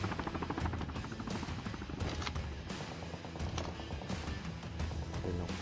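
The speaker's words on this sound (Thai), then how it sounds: "โอ้ข้างล่างนี่ยิงกันสนั่นหวั่นไหวมากเลยหลายตีเลย" Call of Duty Mobile gameplay fills with dense, continuous rapid gunfire, with bursts of automatic shots overlapping at a fairly quiet level throughout.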